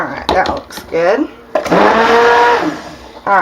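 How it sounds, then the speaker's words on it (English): A stick blender mixing cold process soap whirs loudly in short bursts, its motor pitch rising and falling as it works, with someone talking between the bursts. "It's a powerful blender. It works really well"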